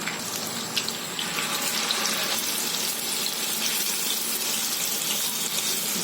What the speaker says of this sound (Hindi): अब ये कबाब को हम फ्राई कर लेते हैं।